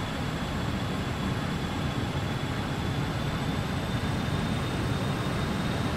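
Steady, dense jet engine roar from a BAe 146 accelerating in a flight simulator, with flaps still extended, a constant broadband rush with faint high tonal whines, alone with no talk.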